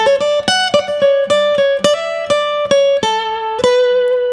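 An electric guitar plays a melodic minor blues lick with hammer-ons and wide intervals, a run of clear picked notes in an even, moderate rhythm, close and alone without any talking.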